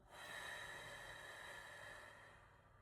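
A singer breathes out slowly during a breath support exercise. The long, soft, airy exhalation hisses steadily and fades toward the end, with no talking.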